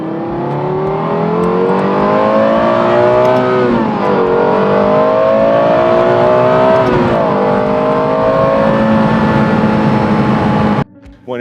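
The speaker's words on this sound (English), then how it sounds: "LFA is an awesome car to drive." Lexus LFA supercar engine revving hard while driving, a loud, rising and falling high-pitched wail through several gear changes, continuous and close before cutting off abruptly at the end.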